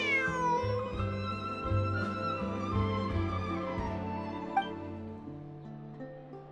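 In Genshin Impact, a cat lets out a long, drawn-out meow close up, followed by a second softer meow, over a quiet musical backdrop.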